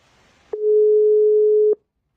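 One steady telephone ring tone sounds on a line as a caller is dialed into a radio studio, a clean, loud beep lasting just over a second, then silence, with no talk.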